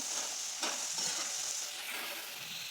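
Potatoes fry crispy in hot oil for a potato veg biryani, a close steady sizzle with a few stirring scrapes and no talk.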